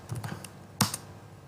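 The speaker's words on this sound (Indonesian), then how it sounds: "Nah, saya di sini ketikkan www.yodi1.net." A web address being typed on a computer keyboard: a short, quiet run of light key taps, then a single sharper, louder keystroke near the end, with nothing else audible.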